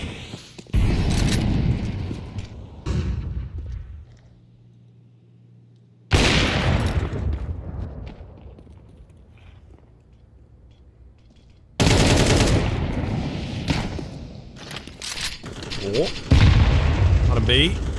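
Gunfire in a Counter-Strike match during an ESL Challenger League esports broadcast, pistols only at this stage: bursts of loud shots and impacts in three clusters, separated by quieter gaps, with voices present.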